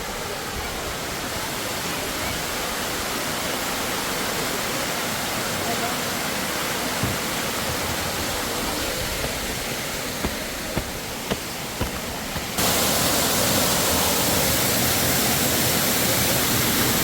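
A waterfall in Chikkamagaluru gives a steady, loud broadband rush that holds throughout, swelling a little louder near the end, with faint talk and small knocks beneath.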